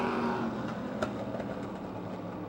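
Modified race cars at Motordrome Speedway roar continuously in a steady, loud engine drone as the pack runs close together, with no voices audible.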